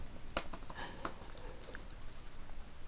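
Caption typed on a computer keyboard, with soft, irregular key clicks and occasional sharper taps in a quiet room.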